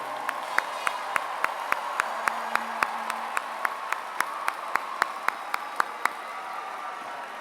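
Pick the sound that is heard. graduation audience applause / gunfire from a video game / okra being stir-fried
graduation audience applause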